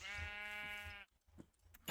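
A single drawn-out Minecraft sheep bleat sounds clearly, followed by a few faint soft clicks and thumps.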